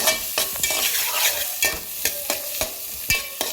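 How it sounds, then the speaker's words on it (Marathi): Chopped onions for pav bhaji fry in butter and oil with a close, steady sizzle, broken by rhythmic scraping stirs of a spoon against the pan. "कांदा चांगला बटर आणि तेलामध्ये परतून घ्यायचा"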